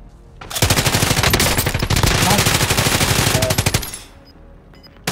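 Sustained automatic-weapon fire in Call of Duty: Modern Warfare, a loud, rapid burst of closely packed shots lasting several seconds before cutting off, with a brief voice and a final shot at the end.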